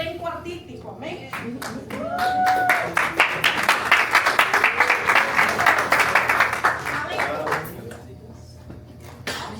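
Congregation applause at a church service swells into steady rhythmic clapping, loud and close, while someone talks over it before it fades near the end.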